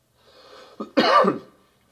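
A single person coughs once, sharply and close by, after a brief rasp of breath.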